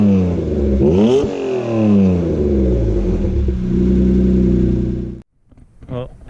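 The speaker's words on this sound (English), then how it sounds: "this one, believe it or not, has Flowmaster exhaust on it, and it actually sounds amazing." A 1991 Acura NSX fitted with Flowmaster exhaust revs loudly and close up, its pitch climbing and falling in sweeping runs before cutting off, followed by a brief short blip.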